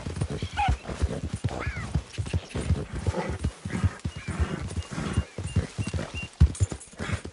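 Horse named Apple trotting with rhythmic clip-clop hoofbeats close by, mixed with snorts and a brief whinny, while a rider urges it on with short spoken words.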